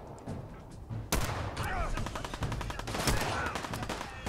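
Gunfire in the video game Fallout 4: a burst of loud, rapid shots begins about a second in and keeps going in dense repeated cracks, with a couple of heavier blasts, against a steady game backdrop.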